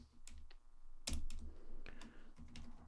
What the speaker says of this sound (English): I'm on like a slightly different keyboard than I have been on, so that's why I'm slightly bad at typing at the moment.